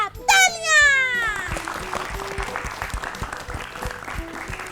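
A group of children applauds during a classroom-style learning show for International Yoga Day. A brief high sweeping tone comes first, then lively, fairly close clapping that continues steadily.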